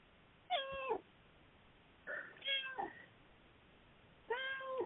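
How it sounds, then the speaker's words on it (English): A cat meows three times indoors, drawn-out tonal calls spaced a second or more apart, fairly quiet over a faint steady hiss with no one talking. "And there's some affirmation from the cat."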